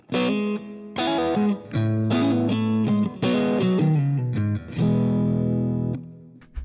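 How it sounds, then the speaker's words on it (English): Distorted electric guitar strums a short chord progression with rich, sustained voicings, several chord changes in a row, ending with a final ringing chord. "Sounds totally different and very complex, but those were the same 3 chords"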